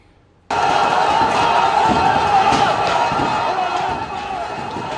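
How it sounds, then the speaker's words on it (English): A large, angry crowd roars during violent street battles in Egypt, a loud, dense mass of shouting voices that cuts in abruptly and keeps up a sustained, churning din with occasional bangs. "Listen to the strength of that crowd and the anger that is bubbling within it on both sides of this."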